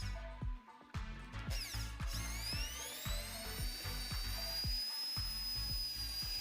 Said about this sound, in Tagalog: Kailangang butasan ng tubo.